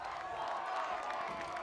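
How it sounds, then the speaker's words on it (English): A crowd roars and cheers steadily at a high school football game between Diman and Case, a dense far-off wash of voices and some clapping, with an announcer talking over it. "And now the crowd getting loud"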